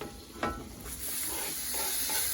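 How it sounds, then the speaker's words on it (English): Mushrooms cooking in butter in a pan give off a soft, quiet sizzle, with a couple of brief stirring scrapes near the start. "So we are gonna cook these mushrooms right now with butter."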